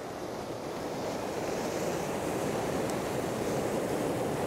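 Sea waves surge and crash steadily against a rocky shore during winter sea fishing, a loud, continuous broadband wash mixed with wind buffeting the microphone, with no one speaking.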